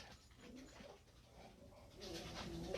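Dogs pant and whimper softly indoors, a steady breathy sound with faint whines rising near the end, at low level without talk.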